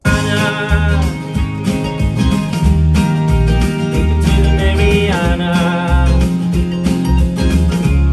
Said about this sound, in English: There's nothing better than laying down some bass.